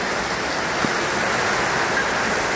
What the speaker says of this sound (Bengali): দেখুন বৃষ্টি হইতেছে গ্রামে